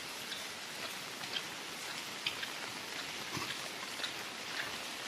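Soft, steady rain patters continuously with scattered individual drips and ticks on a surface, fairly faint and with no voices.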